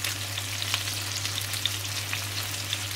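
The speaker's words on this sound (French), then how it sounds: "Donc, c'est ça, on fait dorer les viandes." Veal chops browning in butter in a hot pan give a steady, close, crackling sizzle with fine spitting pops throughout, and no talking.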